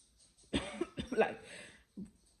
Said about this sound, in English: I started coughing like real bad